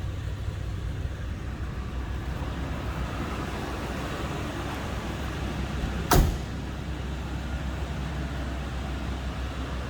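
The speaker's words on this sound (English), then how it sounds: "Sounds as it should, what you'd expect out of a 305 and a 1988 Caprice." Steady low rumble of a 1988 Chevrolet Caprice with a 305 V8 idling, even and continuous throughout, with one brief sharp click or knock partway through.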